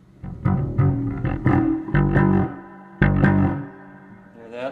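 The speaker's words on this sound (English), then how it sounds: "And now let's turn on the echo." A 1967 Ampeg Gemini II bass amp with echo switched on, played as a run of distorted, sustained notes that swell and ring on with repeating tails, loud and close, no voices.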